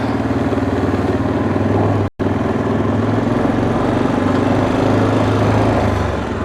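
A 2002 Yamaha Kodiak 400 ATV plows snow, its engine droning loud and close in a steady, slightly buzzing tone that cuts out for a split second before carrying on.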